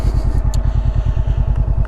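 A Honda CB500X motorcycle idles close by, its exhaust giving a loud, even, rapid low thumping pulse with faint light clicks over it.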